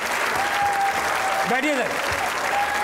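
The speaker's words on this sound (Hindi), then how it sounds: "तालियां बजती रहनी चाहिए।" A studio audience applauds steadily during a comedy talk show, a dense, continuous wash of clapping with voices speaking over it near the middle.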